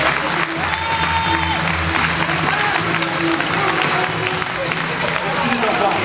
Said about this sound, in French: Allez, applaudissez-les, bravo.